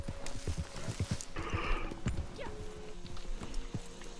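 Horse hooves clip-clopping at a walking pace in the Red Dead Redemption 2 video game, a regular rhythm of close, distinct hoof strikes with a brief whinny-like sound midway.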